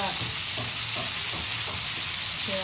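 Bombay duck and prawns fry in a pan of hot oil for a mixed fish fry, a loud, steady crackling sizzle with faint bubbling pops throughout.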